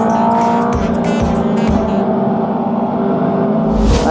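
A sportbike motorcycle gathering speed on a fast highway ride, its engine a loud, steady close-up drone with rushing wind and road roar throughout, changing pitch slightly as it builds speed, with no voices.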